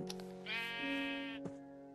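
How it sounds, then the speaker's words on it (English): A sheep bleats in the Minecraft video game, one long wavering bleat framed by short clicks, clear and alone. "So, you see this beautiful sheep?"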